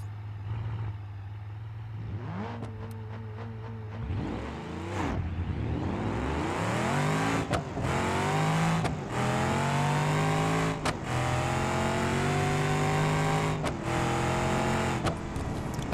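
Simulated drag car in BeamNG.drive launching on nitrous: an idle rumble, revs climbing, then a loud engine howling up through several gear changes, each shift briefly dropping the pitch before it climbs again.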